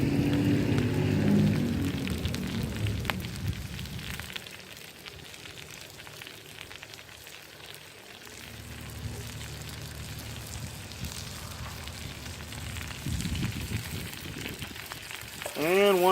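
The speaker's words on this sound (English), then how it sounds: "we'll go ahead and throw in the 2 onions" Two chopped onions going into a new pot, a loud sizzling burst that settles into a quieter steady frying hiss, then swells again near the end, heard close up.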